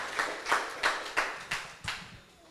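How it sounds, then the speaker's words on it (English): Slow, sparse clapping from a small audience at an evening parenting community session, about six distinct claps spaced roughly a third of a second apart, moderately close and without talk. "you can all give yourself a round of applause for taking the opportunity to come out here tonight"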